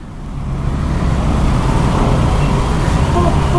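Dense road traffic surrounds a rider on a Honda CBR 650R motorcycle, a loud, continuous wash of engines and tyre roar with wind, close and unbroken.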